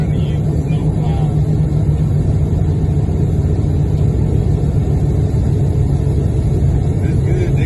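A snowplow truck's engine rumbles steadily and loudly at close range for the whole stretch, a continuous low mechanical drone beneath the cabin noise of a moving car.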